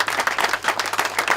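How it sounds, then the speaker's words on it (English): Audience at an annual general meeting breaking into steady, dense applause, many hands clapping together at close range with no voices on top. "just give yourselves a big round of applause"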